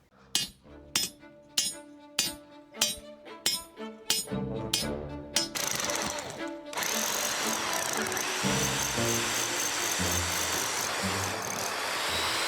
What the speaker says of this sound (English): start drilling some holes along this front wall